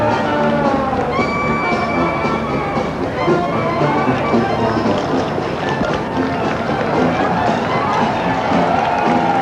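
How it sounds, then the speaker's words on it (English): Applause from a crowd lining a circus parade route, a dense continuous patter blended with band music and general outdoor crowd noise, steady and fairly loud throughout. "Getting a nice round of applause."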